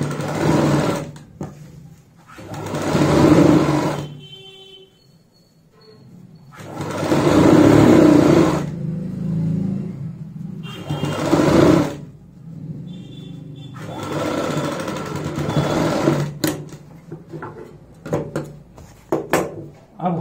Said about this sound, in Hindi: अब हम नीचे की साइड भी यहां पे सिलाई लगाएंगे।